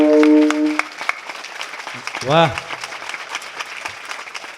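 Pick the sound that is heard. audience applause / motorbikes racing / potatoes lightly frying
audience applause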